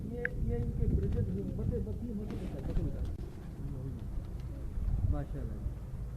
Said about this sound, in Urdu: تو آپ یہ بریڈر کبوتر ہیں,